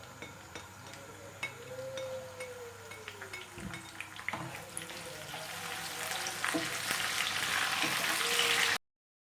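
Garlic, whole red chilies, cumin and curry leaves sizzling in hot oil, a bright crackling hiss that grows louder and denser toward the end, with a few clinks of a utensil against the pan.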